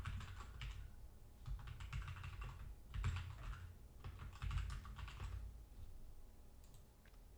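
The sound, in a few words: typing a prompt on a computer keyboard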